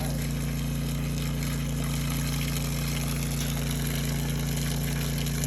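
Water pouring and splashing steadily from a deep well pump at a homestead, a constant rushing gush with a low motor hum underneath, close and unbroken.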